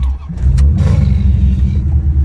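A Chevrolet Corvette engine revs loudly from idle into a sustained, rumbling, mid-pitched roar, heard close up with no talking.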